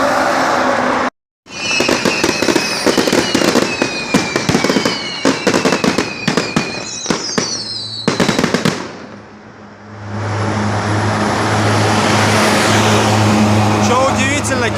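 Daytime fireworks set off at a wedding in China, with rapid crackling bursts and sharp bangs in a dense stream, then a pause before continuous traffic or motor noise takes over.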